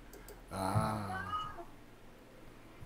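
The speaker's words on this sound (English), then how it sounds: "Was that a kitty? Like a kitten?" A cat gives one drawn-out, clear meow lasting about a second, close and fairly quiet, with a faint short sound at the end.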